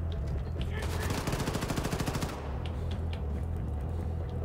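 Automatic gunfire in Wolfenstein II: The New Colossus comes as a rapid, loud burst of shots lasting about a second and a half, followed by scattered lighter impacts over a low rumbling game ambience.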